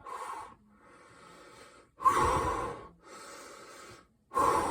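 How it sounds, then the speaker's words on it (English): A person breathes slowly and audibly in and out several times, each close, airy breath separated by brief quieter pauses. "So when you breathe in, it goes down, and then breathe out."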